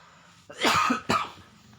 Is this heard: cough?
yes